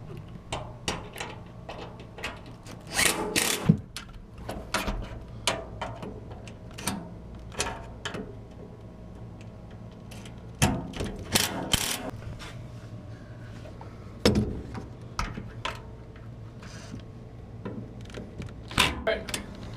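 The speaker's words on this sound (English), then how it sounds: "now we'll come back with our impact driver and go ahead and tighten all of our bolts now" An impact driver tightens cab bolts on a Polaris 570, giving short sharp bursts scattered irregularly across the stretch, some clustered in quick pairs, over a low steady background.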